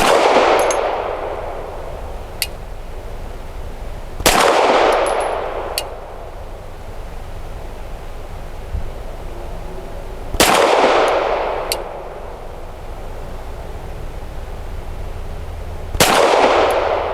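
Four sharp, loud pistol shots from a Canik SFx Rival S firing Nosler ASP rounds at a range, spaced several seconds apart with ringing decay and faint metallic clinks between.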